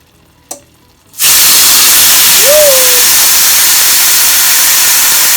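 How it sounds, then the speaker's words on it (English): A steak hits a hot, smoking skillet and erupts into a loud, continuous searing hiss after a brief knock, the fierce sizzle holding steady with a short whistle-like squeal in the middle. "we're going to go ahead and get the steak on and get it seared on both sides."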